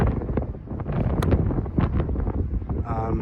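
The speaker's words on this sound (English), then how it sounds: "as you may hear, it can get a bit windy" Strong wind buffets a microphone atop Warsaw's Palace of Culture and Science, a loud, steady rumbling roar with gusty swells and no pause.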